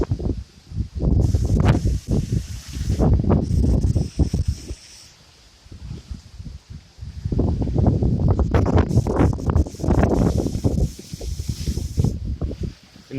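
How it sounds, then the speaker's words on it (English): Hurricane Dorian's gusts roar through trees on a Florida barrier island, loud surges of rustling and wind buffeting that swell for several seconds, drop to a lull, then return strongly. "We get occasional big gusts of wind"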